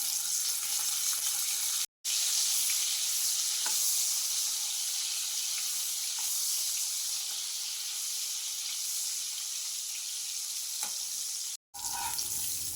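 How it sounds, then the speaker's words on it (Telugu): Dried fish frying in a generous amount of hot oil for a broad bean curry: a continuous close hiss and crackle, cut by two brief silent gaps near the start and the end. "ఎండు చేపలు వేసుకొని ముందు ఫ్రై చేసుకోవాలి."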